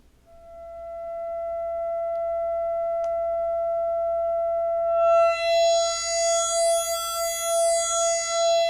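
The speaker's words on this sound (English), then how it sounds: "Raise and lower the timbre slider to hear its effect." A steady pure sine wave tone sounds alone on a Buchla Music Easel synthesizer, then bright harmonics sweep in and pulse rhythmically as the timbre slider is raised and lowered.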